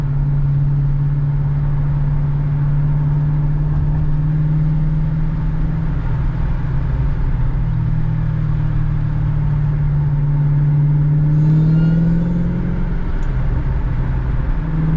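A Dodge Hellcat engine with a newly installed intake rumbles steadily at a loud idle up close, with a brief rev swelling near the end before settling again.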